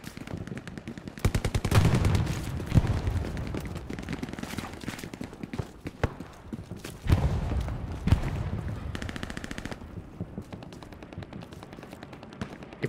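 Rapid bursts of automatic gunfire and scattered single shots from a large World War II infantry battle in Hell Let Loose around Carentan, loud and dense through most of the stretch with a few brief lulls.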